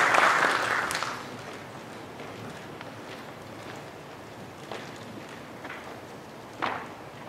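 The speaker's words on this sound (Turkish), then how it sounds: "Rektörü Profesör Doktor Sayın Mahmut Akı alkışlarınızla konuşmaları yapmak üzere huzurlarınıza davet ediyorum" Audience in a hall at the opening of an academic symposium on Ottoman scholarship, clapping for an invited professor: a burst of applause in the first second that fades quickly into room quiet with a few faint knocks.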